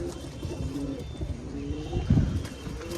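Pigeons kept for sale coo in low, throaty bursts, with a louder close coo standing out near the end over a soft steady background.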